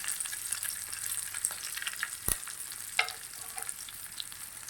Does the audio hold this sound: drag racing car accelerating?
no